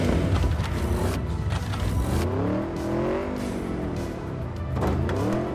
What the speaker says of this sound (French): bah tu enfourches la moto parce que tu peux pas ressortir à pied